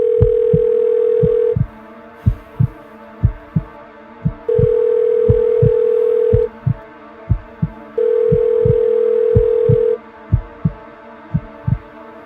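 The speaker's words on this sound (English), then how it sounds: "Answer the phone, no man." A telephone ringback tone on a call that goes unanswered: three long, steady buzzing rings spaced evenly apart, with a regular low thumping beat pulsing underneath throughout.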